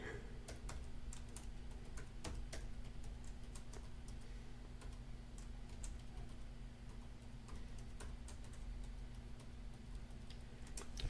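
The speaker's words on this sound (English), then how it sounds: "So now I've said it, I'm going to type." Soft typing on a computer keyboard in a quiet room, a scattered run of light key clicks over a steady low hum.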